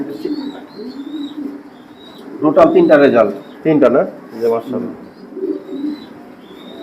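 Kittel pigeons coo softly and steadily in the background, with low, repeated calls running under a man's close, continuous talk.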